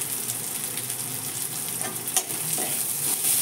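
Finely shredded cabbage frying in a pan, with a steady soft sizzle and faint scraping and clinking as a utensil stirs it, close and fairly quiet with no talking.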